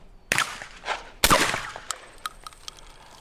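A Typhoon Defence F12 shotgun fires on an outdoor trap range, two sharp, loud blasts about a second apart, each trailing off into a fading outdoor echo.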